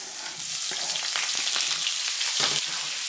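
Turkey sausage sizzles and crackles steadily in hot cooking oil in a pan, a close, continuous frying hiss with small pops throughout.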